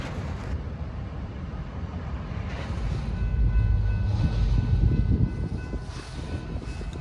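A freight train led by Wamex 4115, an SD40-2 Snoot Nose locomotive, rumbles past with a steady low roar and faint rail clatter that swells in the middle, heard from trackside at moderate distance.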